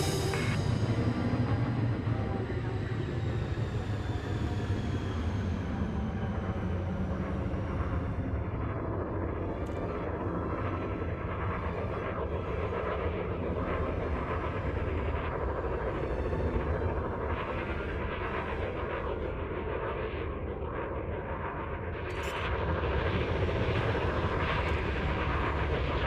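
A spaceship in the Elite Dangerous video game makes an automated landing approach onto a carrier, giving off a loud, continuous engine roar and rumble that holds steady throughout, with a slight dip and swell near the end.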